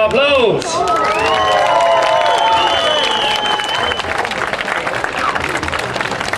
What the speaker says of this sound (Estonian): Aga ma arvan Andrusele üks tuline aplaus.